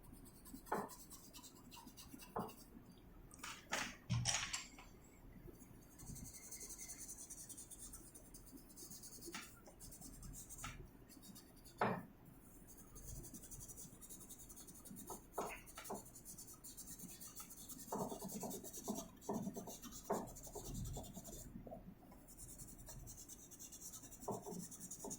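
Graphite pencil scratching and rubbing across paper while shading flame licks on graffiti letters, a soft continuous scraping with irregular sharper strokes throughout, fairly quiet and close.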